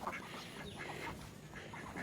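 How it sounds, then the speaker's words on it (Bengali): Ducks quack repeatedly against a steady outdoor background, several birds calling in short overlapping bursts at moderate distance. "এই হাঁসগুলো এখন আছে দেখছেন"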